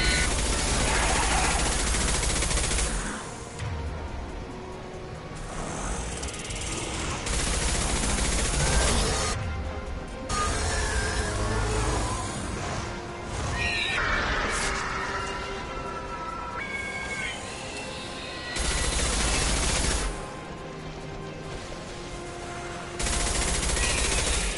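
Gunfire in Mass Effect 2, loud bursts of automatic fire coming in several sustained stretches, separated by quieter pauses filled with game sound effects.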